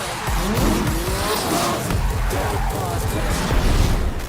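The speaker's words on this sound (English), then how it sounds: "Rocket League combines soccer with rocket-powered cars, creating a fast-paced and chaotic multiplayer experience." Rocket-powered cars race in the Rocket League video game, with loud, dense engine roar, tire squeals and skids piling together continuously.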